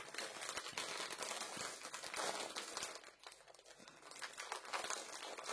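Plastic packaging of a cross-stitch mystery box crinkles and rustles as it is handled to reach the chart inside, close, continuous and soft crackling.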